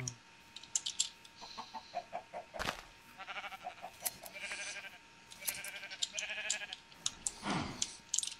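Sheep in the Minecraft video game bleat in short repeated calls among clicks and keyboard-like taps, fairly faint with uneven rhythm.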